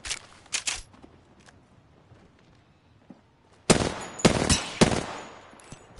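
Gunfire in Apex Legends, a couple of short quick bursts near the start, then a louder stretch of rapid automatic fire in clustered bursts near the end, with a quieter lull between.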